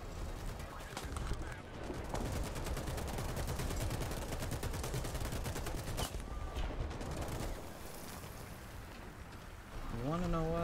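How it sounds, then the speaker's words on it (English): Dense, continuous gunfire and explosions from a War Thunder tank battle fill the mix, a steady crackling barrage with heavier thumps, ending in a rising mechanical whine. "They're probably shooting at me because I ain't wait for them."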